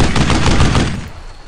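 A close, loud burst of rapid gunfire in the World War II shooter Brothers in Arms: Earned in Blood. It fades within about a second and a half.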